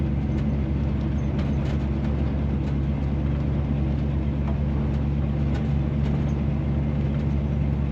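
Steady low engine and road rumble from inside a 1964 Chevrolet Impala lowrider cruising with no music playing, a constant even drone with no talking.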